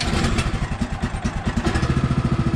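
The engine of a portable sawmill chugs loudly and close by right after a cold start, a fast, uneven mechanical putter that keeps running throughout, and no one speaking.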